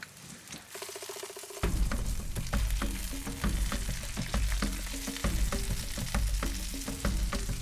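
Curly dock leaves cooking down to a paste in a pan on the stove, a steady close sizzle and patter of frying with faint stirring clicks, no voices.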